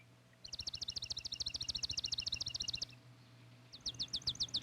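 Sparrows give rapid, high trilling chirps, a long steady run of repeated notes followed by a short pause and a second burst, faint and somewhat distant over low background rumble.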